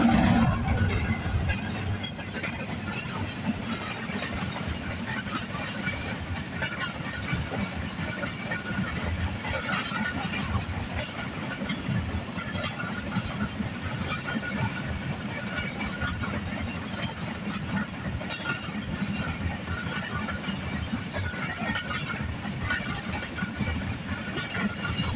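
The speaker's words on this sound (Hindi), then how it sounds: "मलिर हॉल स्टेशन पे दाखिल हो चुकी है और अच्छी खासी स्पीड में G40 9044 के साथ" A passenger express train hauled by GEU40 locomotive 9044 passes through Malir Halt station at good speed, a continuous loud rumble and rolling roar with faint clatter, sustained throughout.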